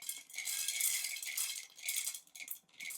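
An Oneisall wifi automatic cat feeder dispensing a single portion of dry kibble into its bowls, giving a close, bright rattle of pellets tumbling in a few pulsing bursts over three seconds.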